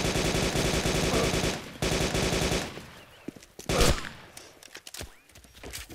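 Rapid automatic gunfire in the game DayZ Origins rattles loudly in two sustained bursts, then breaks into scattered single shots and thuds, with no talking.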